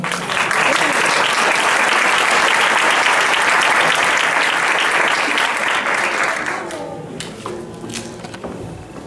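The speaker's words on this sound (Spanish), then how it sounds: "a continuación recibamos con un caluroso aplauso a Kevin" Loud, sustained applause from a school audience at a kindergarten graduation at Colegio Santa Eulalia in Totana, steady for about six seconds before tapering into scattered claps and room noise.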